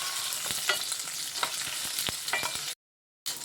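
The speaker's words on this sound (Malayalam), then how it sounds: "അതെല്ലാം കൂടി നമുക്കൊന്ന് വഴറ്റിയെടുക്കാം." Shallots and whole garlic cloves sautéing in a pan, a steady close sizzle broken by sharp scraping stirs of a spatula, then a brief silence before the frying resumes.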